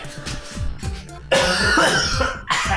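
A person coughs repeatedly, a string of sharp harsh bursts with some throat clearing, close and loud, followed by a heavier, noisier cough spell; no speech.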